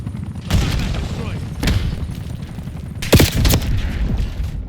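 Gunfire in the video game Black Ops 6, with bursts of shots cracking in clusters over a steady background of game noise, loud and close.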